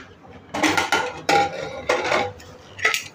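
A cooled pressure cooker of cooked peas is opened in a home kitchen, giving several sharp metallic clanks and rattles of lid and pot in uneven bursts, close and fairly loud, with no talking.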